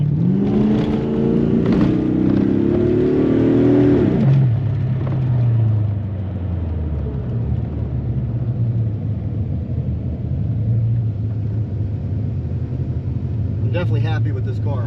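A 1986 Chevy C4 Corvette accelerates hard, its engine note climbing steadily for several seconds before easing into a lower rumbling cruise, close and loud, with someone talking over it.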